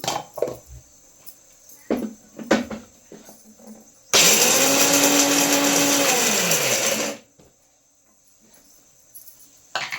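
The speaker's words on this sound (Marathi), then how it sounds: "आता मी मिक्सरमध्ये छान असं कूट काढून घेते" A mixer grinder crushes cleaned peanuts into a coarse powder in one loud, steady whirring burst of about three seconds, with quiet kitchen clatter before and after.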